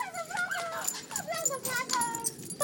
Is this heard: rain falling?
no